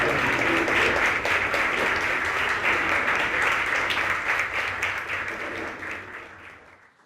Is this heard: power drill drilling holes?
no